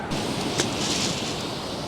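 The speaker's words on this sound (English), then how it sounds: "There's some serious waves coming through here." Sea waves break and wash steadily over a shingle beach at Chesil Beach, a continuous loud rushing hiss with a brief surge partway through, and no voices.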